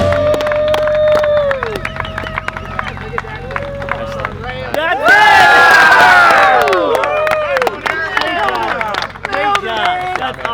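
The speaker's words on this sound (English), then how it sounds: "Big round of applause." A large outdoor crowd cheers, whoops and claps after a giant homemade 10-foot model plane glides in, a loud, sustained burst of noise that swells in the middle and then trails off into scattered shouts and chatter.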